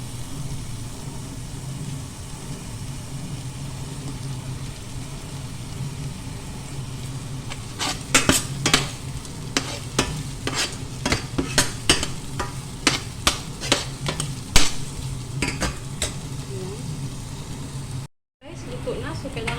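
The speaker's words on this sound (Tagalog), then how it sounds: "So ngayon naman ay ilalagay ko yung ating sibuyas pula." Red onion sautés with garlic and ginger in a pan, a steady sizzle with sharp scraping and stirring strokes arriving in a busy run partway through, close and fairly loud.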